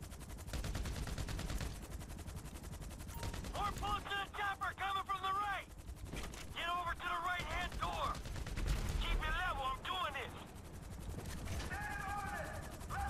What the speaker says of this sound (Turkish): Nereden sıkıyorlar bunlar?